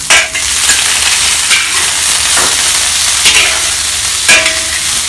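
Beef being stir-fried with softened onions and ginger in a hot pan, a loud, continuous sizzle with occasional scraping and stirring clatters throughout.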